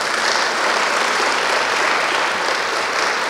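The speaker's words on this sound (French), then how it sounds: "Je pense que nous pouvons l'applaudir très fort." At a seminar opening ceremony, the audience breaks into vigorous applause, a close, loud, unbroken wash of clapping that holds at full strength throughout.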